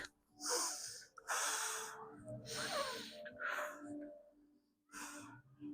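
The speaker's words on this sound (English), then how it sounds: "Start the deep breathing." A person doing yoga takes deep breaths, giving several separate loud, airy inhales and exhales with short pauses between them, close to the microphone.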